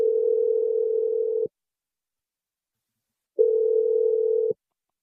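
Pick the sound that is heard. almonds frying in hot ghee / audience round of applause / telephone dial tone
telephone dial tone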